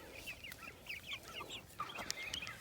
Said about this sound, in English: Hey, meat birds. What you doing, bird? You getting big, ain't you?